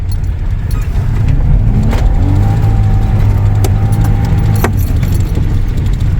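An off-road vehicle creeps slowly through a mud pit on an obstacle course, its engine holding a steady low rumble while sharp knocks and rattles from the body and suspension break in now and then, up close and without voices.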